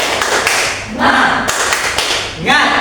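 A class performs a rhythmic Indonesian spirit clap, with sharp taps and claps coming in quick bursts, mixed with a few voices chanting along in a classroom.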